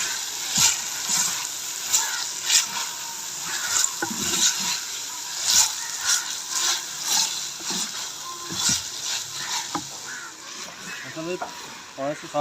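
Beef keema with black pepper, dry coriander and garam masala fries in a pan, a continuous sizzle broken by repeated scraping stirs.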